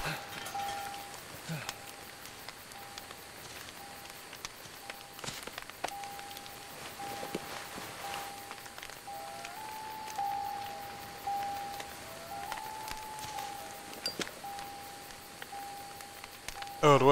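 Steady, quiet patter of rain falling on surfaces in the game Deadly Premonition, with soft crackles and drips and a faint steady tone humming in the background.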